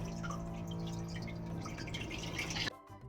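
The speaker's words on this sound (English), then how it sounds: "Once it is washed, you can open the lid and drain it." Water draining out of a freshly washed container after its lid is opened, a close continuous trickle and dripping splash that stops abruptly near the end.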